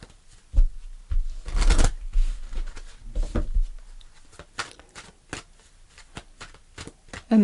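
Tarot cards being shuffled by hand, with brisk riffling bursts and soft slaps that come close and clear in uneven clusters, with no talking over them.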